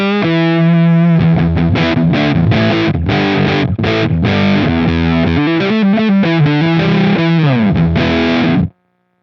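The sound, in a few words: electric guitar through fuzz pedal set to darker sound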